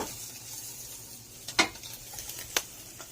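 SPAM slices frying in a pan, a continuous quiet sizzle with a couple of sharp crackles and pops standing out against the hiss.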